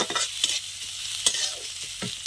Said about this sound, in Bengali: দিয়ে আবার ভালো করে আমি নাড়িয়ে নিচ্ছি